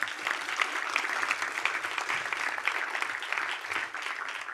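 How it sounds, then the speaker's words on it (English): Steady audience applause from a crowd honoring a new Santa Ana School Police recruit at a community meeting, dense clapping that holds evenly throughout with no voices over it. "So let's give him a round of applause."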